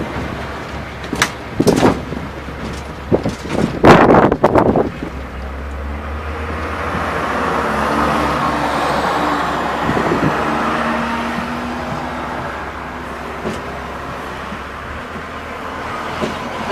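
Road traffic rumbles past a halted tourist trolley train pulled aside on a road in Bermuda, with a few sharp nearby clunks early on, then a steady broad wash of passing vehicles that swells and fades.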